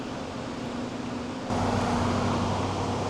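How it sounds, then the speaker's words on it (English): Traffic on a busy main road beside a canal lock, a steady roar of passing vehicles with a low hum that swells noticeably louder halfway through, heard from nearby with no talking. "you will hear a lot of traffic going past me"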